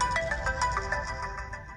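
A mobile phone ringtone for an incoming video call plays a short repeating melodic tune, loud and close, with no talking over it.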